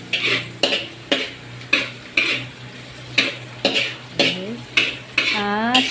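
Ginger and garlic sautéing in a pan for a steamed mussel dish, heard as repeated sharp clatters of a utensil scraping and tapping the pan over a faint sizzle, with brief speech at the end.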